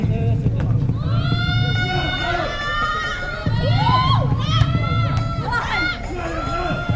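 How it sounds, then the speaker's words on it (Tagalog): Basketball fans in a game crowd shout, whoop and cheer loudly and continuously, with excited voices rising and overlapping in waves, alongside general crowd babble. "Pag sumisigaw talaga ang fans ng video"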